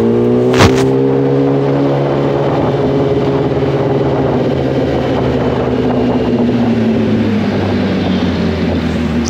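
A superbike engine rides along the GT road with a strong, steady drone that swells slightly and slowly drifts in pitch, loud and close after a brief sharp click near the start.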